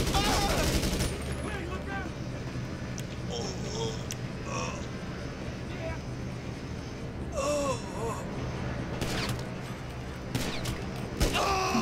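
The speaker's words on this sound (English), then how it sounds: "Oh, they're shooting" Gunfire in GTA 5 Online, with bursts of shots scattered through a busy game scene, mixed with speech and sudden sharp cracks near the end.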